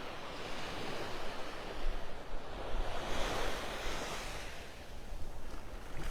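Ocean surf rolls steadily onto a North Naples, Florida beach on an outgoing tide, a constant broad wash with gentle surges and some wind noise, no voices.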